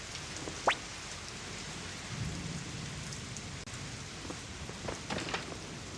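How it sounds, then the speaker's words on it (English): Heavy rain falls steadily outside, a dense continuous hiss with occasional drips and a low rumble underneath. The sound is fairly quiet and unbroken throughout. "The heavy rain outside continued."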